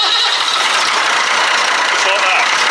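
A Ford TW25 tractor engine turns over and catches straight away, settling into a steady, loud diesel idle that fills the whole stretch at close range.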